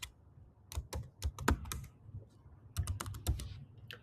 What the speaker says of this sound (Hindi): उसके बाद मैं पासवर्ड डाल देता हूँ कोई भी